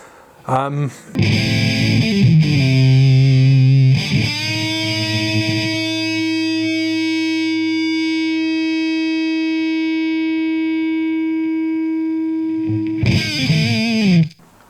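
An electric guitar through a TC Electronic Dark Matter distortion pedal plays a few chords, then one long, loud, buzzing chord that sustains for several seconds before a final strum, close and alone.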